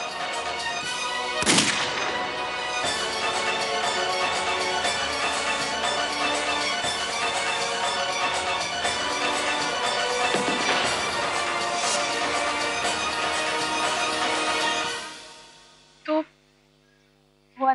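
Gunfire in a Hindi TV drama confrontation, a sustained loud burst of shots and blasts over dramatic music for about fifteen seconds, with a few sharp single cracks standing out, then fading to near silence broken by brief impacts.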